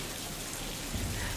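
Heavy rain pours steadily on a stormy night road, a dense continuous hiss with a low rumbling undertone that swells slightly near the end, heard alone without voices.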